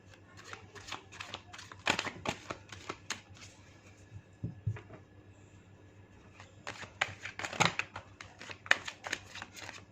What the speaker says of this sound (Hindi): जब तक कि मैं कार्ड शफल कर रही हूँ